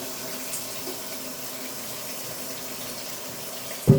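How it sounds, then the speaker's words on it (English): Running tap water pours into a pan to rinse a cup of black beans, a steady broadband wash throughout with a brief louder splash near the end. "Pour water and wash the black beans."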